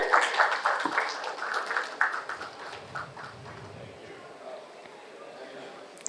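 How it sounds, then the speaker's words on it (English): Conference delegates at a space congress applaud a panel in a hall; brisk clapping starts fairly strong, then thins and fades into quieter room noise over a few seconds. "can we have a huge round of applause for our distinguished panel?"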